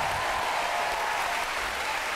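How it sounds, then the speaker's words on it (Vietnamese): A TV show studio audience applauding for a performer in a continuous dense wash of clapping, steady and even from start to end. "Vỗ tay thật lớn dành cho Phạm Lệch"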